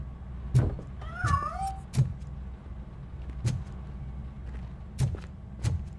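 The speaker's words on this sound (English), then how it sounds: "That cat must be hiding inside." A cat hiding in a piano in RoboCop: Rogue City lets out a single short, wavering meow amid recurring soft thuds and a low ambient hum.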